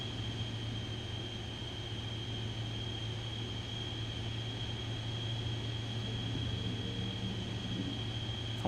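A Carenado B390 aircraft engine in Microsoft Flight Simulator 2024 drones steadily with the throttle pulled back, a constant low hum and airy wash with a faint high whine, unbroken throughout.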